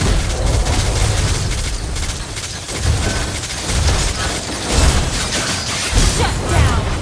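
Turret-destruction explosion in the Mobile Legends video game, a dense, loud wash of booms, crashes and whooshing effects layered with game sounds, with several heavier bursts through the stretch.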